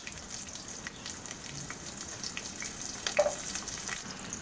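Small onions, fenugreek seeds and ground garlic fry in hot oil with a soft, continuous sizzle and crackle, heard up close and fairly quiet throughout.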